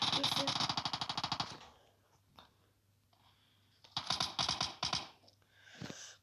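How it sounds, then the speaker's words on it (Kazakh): Rapid bursts of automatic gunfire in PUBG Mobile in quick rattling volleys, a pause with faint clicks, then more sharp bursts of shooting. "Ойбай, атыс кетіп отыр достар."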